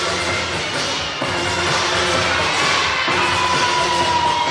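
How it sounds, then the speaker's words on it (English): Gymnastics teammates at a college meet clap along and cheer during a floor routine, a steady, loud crowd roar with rhythmic clapping throughout, no talk on top. "Teammates are clapping along."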